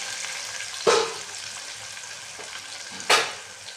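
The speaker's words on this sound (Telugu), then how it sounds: "పచ్చిమిర్చి, ఇలా కలుపుకోవాలి." Green chillies frying in hot oil in a pan for chicken pulao, a steady quiet sizzle broken by two sharp scrapes of a spoon stirring.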